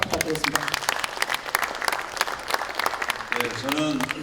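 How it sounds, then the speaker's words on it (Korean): Lawmakers at an emergency party caucus meeting applaud in a lively burst of close, rapid clapping, with voices heard near the end. "다시 한번 큰 박수 부탁드리겠습니다"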